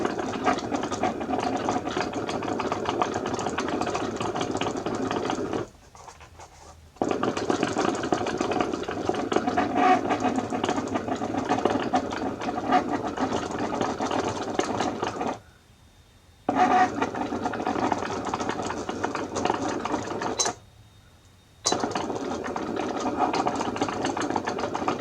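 A Cricut cutting machine slices through a cork sheet with a steady mechanical whir and buzz that stops dead three times for about a second each, then resumes, running close and alone with no talk.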